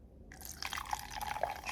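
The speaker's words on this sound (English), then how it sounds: "Pour it in." Ryse Sour Punch Blue Raspberry energy drink pours into a glass after a short silence, a steady close liquid trickle with bright splashing and a few drips, no talking.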